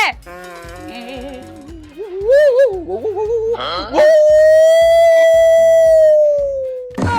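A dog yips and whimpers, then lets out one long, drawn-out howl that holds steady for several seconds before trailing off. It is loud and close, with no clear barking.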